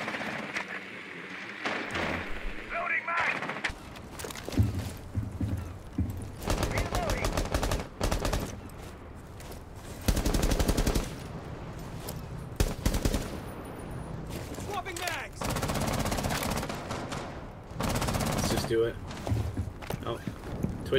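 Gunfire in Rainbow Six Siege, a ranked match: repeated rapid bursts and single shots, loud and close, broken by pauses, with players talking between and over the shooting.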